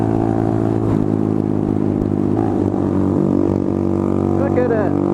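A motorcycle fitted with an aftermarket Zoom exhaust produces a loud, close, steady droning engine note with strong harmonics. Another engine may sound alongside, and a voice briefly cuts in near the end.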